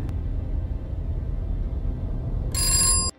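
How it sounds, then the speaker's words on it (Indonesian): A telephone rings inside a hidden basement room, heard as a short bright electronic tone burst near the end, over a steady low rumble. "Tiba-tiba, telepon yang berada di dalamnya berdering."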